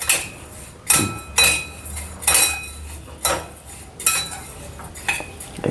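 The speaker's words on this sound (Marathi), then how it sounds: "याला आपण आता थोडं हलकं भाजून घ्या थोडासा कलर चेंज झाला पाहिजे" Spices for homemade chaat masala are dry-roasted lightly in a pan. A metal spoon strikes and scrapes it in a loose, repeated rhythm, about eight sharp clinks over a quiet background with no talking.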